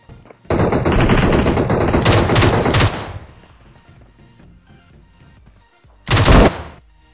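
Automatic fire from an M762 assault rifle in the mobile game PUBG Mobile comes as a loud, rapid burst lasting about two and a half seconds. A quieter lull follows, then a second short burst near the end.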